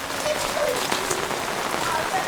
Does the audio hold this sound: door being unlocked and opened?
no